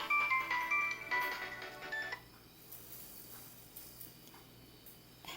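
A mobile phone rings with a bright electronic tone pattern of short repeated beeps for about two seconds, then cuts off, leaving quiet room hum.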